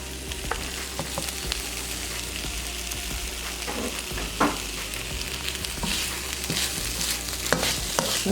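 Shrimp and coleslaw egg-roll filling frying and being stirred in a pan, a constant soft sizzle with occasional utensil scrapes and clacks, fairly quiet and without talk.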